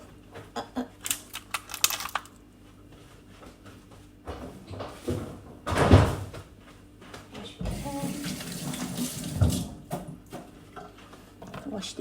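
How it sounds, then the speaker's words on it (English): Onions are washed under a running kitchen tap. The water splashes in two longer stretches, and in between there are clatters and handling noises, close by, with some talking. "Wash the onions."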